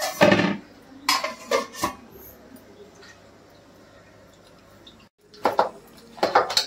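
A lid is set onto a cooking pot with a sharp metallic clank near the start, followed by a few more clinks and taps of cookware, then a quiet stretch before further clatter.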